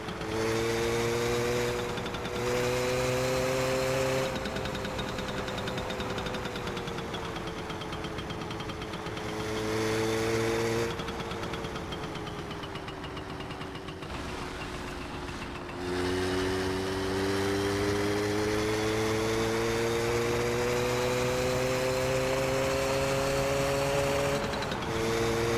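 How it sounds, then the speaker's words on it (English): A chainsaw droning in the background of a video game, a steady mid-distance engine whine that rises and dips in pitch across long stretches without pause. "The ambient noise has somebody with a chainsaw."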